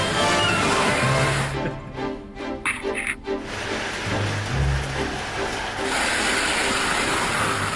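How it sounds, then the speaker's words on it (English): A toy banana-delivery train runs along its track with a loud, continuous mechanical rattle and clatter of gears close by. The noise briefly dips before the clattering resumes. "Here comes the train."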